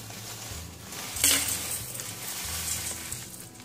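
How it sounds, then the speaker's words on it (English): Graham cracker crumbs, melted butter and brown sugar are stirred in a bowl for a cheesecake crust, a soft continuous gritty scraping close by with a brief clink of utensil on bowl. "I'm going to stir the graham cracker crumbs"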